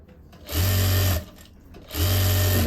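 A sewing machine stitches the last stretch of a seam on stretchy trousers in two close, loud, steady whirring runs with a short quiet pause between them.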